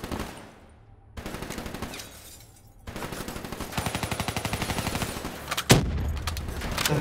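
Rapid automatic gunfire aimed at a cooling tower in Call of Duty Black Ops III, a fast even stream of shots rising from quiet lulls to a loud sustained burst, capped by a sharp impact near the end.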